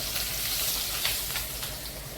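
Steady crackling sizzle of drumstick leaves frying in hot oil, a dense, even hiss close by with small pops throughout.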